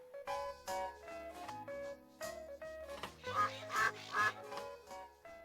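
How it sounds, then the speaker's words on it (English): Duck quacks sound in several short bursts over a busy musical backing with a steady bass line, clear and fairly loud. "he led the others with the quack, quack, quack"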